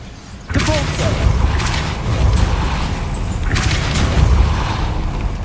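A Depulso spell cast in Hogwarts Legacy: two loud, booming force blasts, each opening with a sharp burst and rolling into a heavy rumble, close and dominant.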